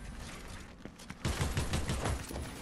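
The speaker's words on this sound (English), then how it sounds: "here's like the returning lever action shotgun" Lever action shotgun fire in the video game Fortnite: a few scattered sharp shots and mechanical clacks, then a dense rapid burst of close, heavy blasts that continues to the end.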